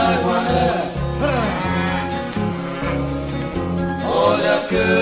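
Oxen mooing, with a couple of long, drawn-out moos rising over loud, steady instrumental music.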